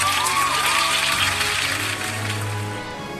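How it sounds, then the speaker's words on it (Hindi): Applause from an audience at a ceremony in an animated cartoon, a steady dense patter of clapping filling the whole stretch alongside a low sustained tone, with no voices. "समारोह में सब तालियां बजाते हैं"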